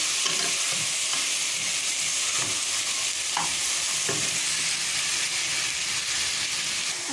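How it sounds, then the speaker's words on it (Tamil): Onions and masala sautéing in oil and butter in a pressure cooker for liver gravy, a constant close sizzle with occasional spoon scrapes and stirring knocks, no voices. "வெங்காயத்தையும் மசாலும் போட்டு நல்லா வதக்கி"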